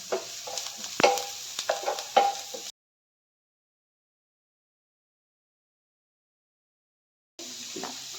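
Chopped green chillies being sautéed and stirred in a pan for paneer pulao: several scraping spoon strokes over a soft sizzle, then a long silence before the sizzling briefly returns.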